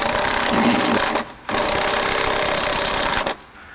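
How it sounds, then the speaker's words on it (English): Power tool whirring steadily as it backs out the middle bolts of a truck side step, with two continuous bursts separated by a brief pause, loud and close with no talking. "First thing we're doing is we're going to get these middle bolts off first so that I can put the jack here."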